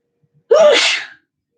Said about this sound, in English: Excuse me, I need to sneeze again.